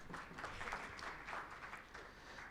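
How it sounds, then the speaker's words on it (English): Steady audience applause fills a hall during a national public policy symposium on basic education, a dense continuous patter of many hands at moderate volume with no speech over it. "Round of applause."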